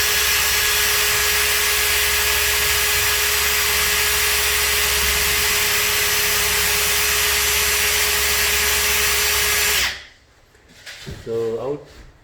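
A power drill bores through metal with a loud, steady whine that runs without pause for about ten seconds, then stops abruptly, leaving faint handling noise.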